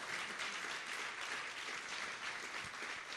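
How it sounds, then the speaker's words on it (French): Applause from an audience at a Miss Congo Belgium fashion show event, steady dense clapping that fills the whole stretch without a break, with no talk over it. "On peut applaudir pour ça."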